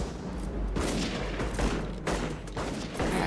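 A film shootout in heavy rain, with a dense, continuous rush of gunfire blending into the steady roar of rainfall throughout, fairly loud and with no speech.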